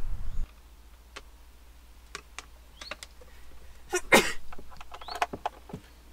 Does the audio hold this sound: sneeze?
yes